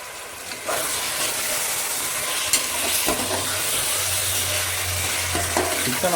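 Chicken for biryani being stirred in a hot pot, a steady sizzling hiss with scraping stirs and a few clinks, plus a low steady hum underneath, no speech.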